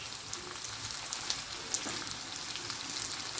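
Breakfast sausages sizzle in a hot pan as soy sauce goes in, a dense, steady crackling hiss with tiny spitting pops, close and continuous.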